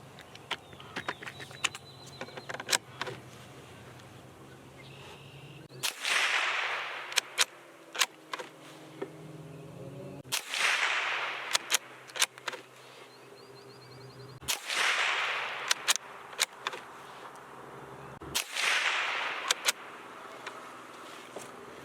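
Suppressed Savage B22 .22 rifle firing Winchester rounds outdoors, sharp muffled cracks spaced several seconds apart over steady outdoor background hiss, each followed by faint mechanical clicks of the bolt, fairly close.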